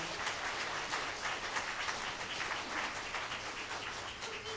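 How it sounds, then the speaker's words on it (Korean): A room full of wedding guests at a hotel ceremony in Busan claps steadily, a dense, even patter of applause that continues without pause, heard from a short distance. "큰 박수 부탁드립니다"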